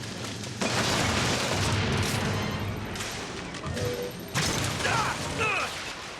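A rocket launcher fires in BioShock Infinite. Loud bursts of explosion-like blasts come close together and sound near, with a pause in the middle before another heavy burst.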